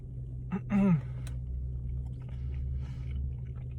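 A bite of McRib pork sandwich being chewed up close, with a brief voiced murmur partway through and soft mouth sounds over a low steady background hum.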